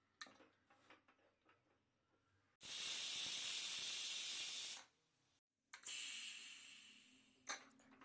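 Pressure cooker holding jackfruit seeds and amaranth leaves releasing steam in two loud, sustained hissing bursts separated by a brief pause, close by, with faint ticks before them.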